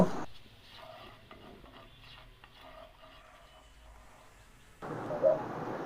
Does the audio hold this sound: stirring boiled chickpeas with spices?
yes